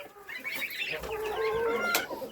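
Goslings and other poultry on a farm give a busy stream of high chirping and clucking calls that overlap continuously, close by.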